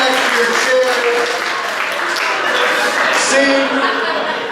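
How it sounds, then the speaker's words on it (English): An audience at a live hypnosis show gives a sustained round of applause, dense clapping throughout with a little chuckling mixed in. "Give him a big round of applause, everybody."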